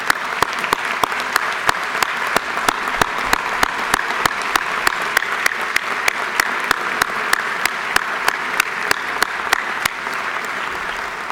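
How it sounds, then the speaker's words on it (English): Sustained applause fills the Georgia House of Representatives chamber, many hands clapping steadily and loudly for over ten seconds with sharp individual claps standing out. "a round of applause"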